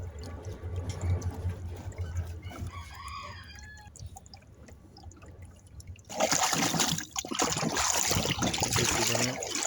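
Vitamin C solution poured and mixed into a goat's water tank, heard as a loud, steady splashing and gushing in the last few seconds, after a quieter stretch with chickens clucking and a rooster crowing in the background.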